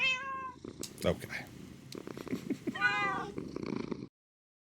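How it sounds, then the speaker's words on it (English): Minecraft cats purr and meow in a video game, with a couple of clear tonal meows standing out over soft purring while a person talks throughout. "we listen to the ASMRs of the cat purrs."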